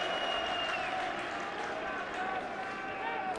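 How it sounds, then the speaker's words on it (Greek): A stadium crowd at a Platanias FC football match applauds the referee's vanishing spray, a steady wash of clapping and crowd noise lasting throughout with a faint hum, and a commentator's voice over it. "Οι χειροκροτήματα που ακούμε, μας λέει ο Μανώλης Βογιατζέκης, είναι για το σπρέι που χρησιμοποιεί ο διαιτητής"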